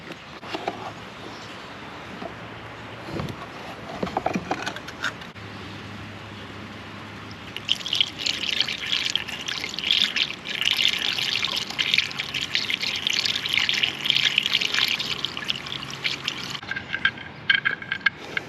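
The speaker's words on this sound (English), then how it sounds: "Alright, so we'll put in the coolant first." Coolant poured into an ATV under repair; after a few faint knocks and clunks, a steady close liquid rush and trickle fills the middle stretch, then fades near the end.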